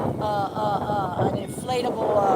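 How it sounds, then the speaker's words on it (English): Strong wind blowing across a lake with big waves, buffeting the microphone in a continuous rough roar while someone talks over it. "It's windy as I don't know what"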